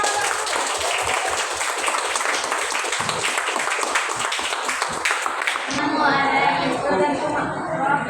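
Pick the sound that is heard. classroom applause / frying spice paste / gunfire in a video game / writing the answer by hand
classroom applause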